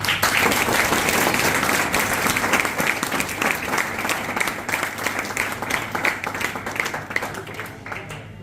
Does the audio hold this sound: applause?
yes